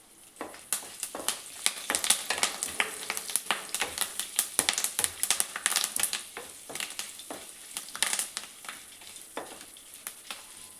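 Garlic cloves and curry leaves fry in hot oil in an AMC cookware pan, with a steady sizzle full of sharp, rapid crackles and pops close by.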